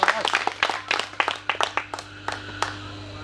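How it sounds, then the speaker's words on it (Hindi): Scattered, uneven hand claps from an audience at a Hindi poetry recital, a handful of separate claps rather than a full ovation, thinning out toward the end over a low steady hum. "एक बार जोरदार तालियां बजाइए"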